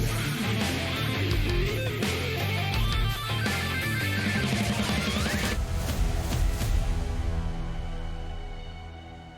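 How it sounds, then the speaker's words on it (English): Transcendent item pickup sound in the video game Lost Relics, a dense, loud, epic burst of layered music and shimmering effects that swells and then slowly fades out, with no talk. "when you pick up a Transcendent, it now sounds like this."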